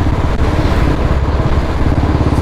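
A Royal Enfield Bullet 350 BS4 motorcycle engine revving loudly up close, its deep, rapid thumping exhaust pulsing steadily throughout with no speech.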